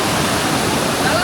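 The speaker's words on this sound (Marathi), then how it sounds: "चलो पुढून धबधबा आले" Kondeshwar Waterfall near Kamshet in the monsoon roars as a loud, steady rush of falling water that fills the whole moment without a break.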